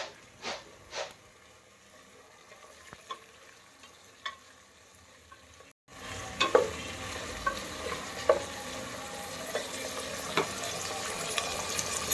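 Vegetables fry and sizzle in hot oil as they are stirred in a pan, a steady close crackle with scraping stirs and a few sharp clinks, quieter at first and then louder and denser after a brief break.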